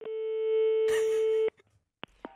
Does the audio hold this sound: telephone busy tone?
yes